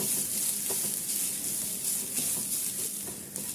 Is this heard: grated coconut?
yes